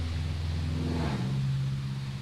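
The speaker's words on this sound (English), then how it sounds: "It's way too loud. Definitely a manifold leak." A turbo LS Chevrolet Avalanche engine with an exhaust manifold leak idles and briefly revs with a loud, raspy rumble, the tone dropping slightly midway; no voices.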